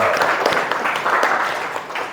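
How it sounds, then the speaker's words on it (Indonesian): Students in a classroom clap together in a brief, dense burst of many hands, fairly close and steady throughout. "Tepuk tangan lagi untuk kesepakatan kita"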